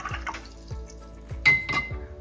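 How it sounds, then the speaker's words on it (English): A watercolour paintbrush being rinsed in a water jar, with several soft swishes and light clinks of the brush against the container, close and alone. "I'll wash that brush again"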